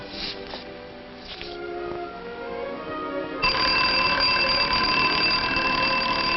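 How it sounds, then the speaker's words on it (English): A 1950s alarm clock bursts into a loud, sustained metallic ring partway through, steady and close, following a quieter stretch of room tone with faint background tones. "she got up when the alarm went off"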